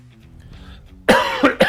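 A person with a tickly throat coughs and clears it: after a near-quiet start, three loud, harsh, close coughing bursts follow in quick succession, with no talking.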